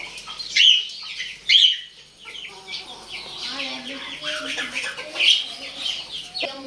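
A pet hen kept in a bird cage clucks in short, loud bursts close by, with chirping birds around and people talking over it.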